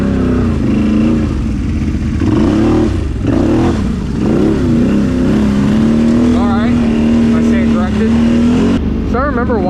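A heavy Can-Am Outlander 850 XMR quad rumbles and revs loudly up close on a trail, its engine pitch rising and falling as the wheels struggle for traction, with a few quick throttle blips toward the end.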